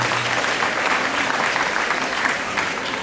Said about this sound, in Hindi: तो एक बार फिर से जोरदार तालियां होगी।